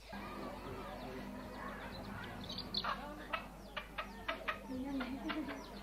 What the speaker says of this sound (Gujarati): મરઘો મરઘી